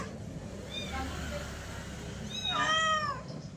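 A cat meows twice, a short call first and then a louder, drawn-out meow a moment later, both close by over a low background rumble.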